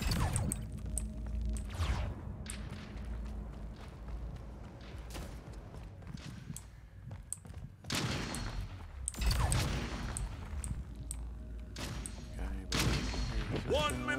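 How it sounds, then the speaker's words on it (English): Gunfire in the shooter game Splitgate, bursts of shots and thuds cracking out in rapid clusters throughout, with a player talking over the game audio. "I hear somebody shooting over there"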